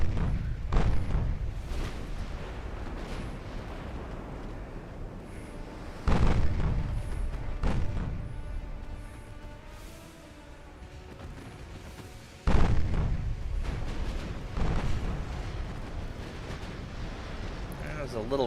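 Warship guns fire in the naval game Ultimate Admiral Dreadnoughts, heavy booming salvos at intervals with long rumbling tails, while someone talks over the battle.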